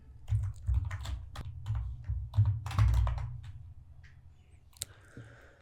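Keystrokes on a computer keyboard while an HTML heading tag is entered, irregular bursts of clicks and thunks close by, quieter toward the end.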